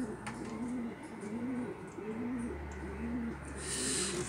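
Pigeons in a loft coo in soft, repeated throaty phrases at an even pace, fairly close, over a low constant hum of ventilation.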